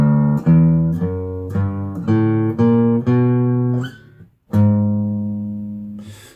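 A bass line on guitar from Randy Newman's song When I'm Gone, picked as a slow series of sustained low notes that ring and decay one after another, clear and close, with no talking.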